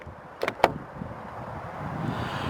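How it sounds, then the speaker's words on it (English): Two quick taps on the door handle of a 2017 Audi SQ5 to lock it, sharp close clicks near the start followed by a soft, steady outdoor background. "To lock, all you have to do is tap the indentations on each of the door handles."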